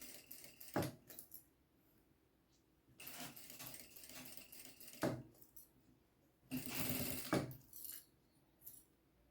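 Sewing machine stitching the lining of a makeup bag in short runs, rapid mechanical chattering bursts separated by quieter pauses, close with no talk.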